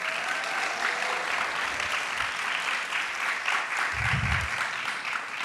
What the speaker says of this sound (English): Let's give a big round of applause to Jorge Rivas